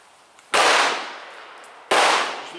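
Two loud, sharp .44 Special revolver shots at an outdoor range, firing cast bullets of range-recovered lead over a Bullseye powder charge, each crack ringing off with a decaying tail, about 1.4 seconds apart.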